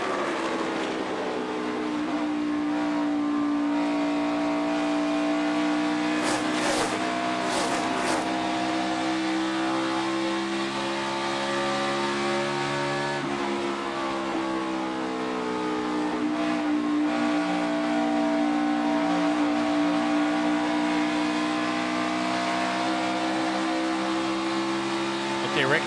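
A NASCAR Cup car engine drones steadily as it laps Texas Motor Speedway, a sustained loud in-car roar that rises and falls in pitch through the corners, with brief radio crackles near the middle.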